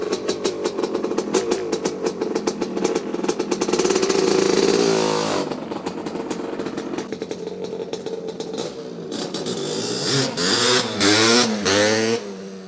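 1983 Honda CR250 works replica two-stroke motocross bike engine revving hard and close, sharp repeated blips rising and falling with crackling pops between throttle bursts.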